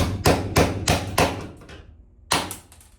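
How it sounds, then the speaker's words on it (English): A hammer strikes a chisel to break screw heads off a wall in a school bus conversion: four sharp metallic blows in quick succession, a pause, then one more strike, loud and close. "put the chisel right at here, right at the point of the head, and then just try to get under it and hit it as hard as you can"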